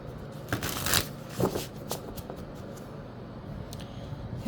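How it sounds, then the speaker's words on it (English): Oracle cards being shuffled by hand, a short run of soft papery riffles and slaps that fades to quiet handling, close and alone with no talk. "let's pull an oracle card for you"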